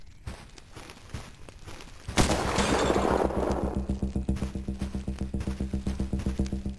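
Gunfire in the retro shooter Cultic, with a sudden loud blast, then a steady, rapid, rhythmic string of close shots continuing to the end, with no talking.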